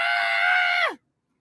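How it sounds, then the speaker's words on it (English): One long, loud scream from a man out on a city street, held steady and strained before it drops sharply in pitch and cuts off, leaving silence. "Why does he always start screaming?"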